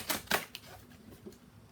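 Astrology cards are shuffled in short quiet bursts, a few crisp riffling flicks followed by softer taps, close and faint.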